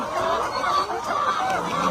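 Layer hens in a bamboo cage cluck continuously while eating in the afternoon, a dense, steady chorus of overlapping calls heard close up.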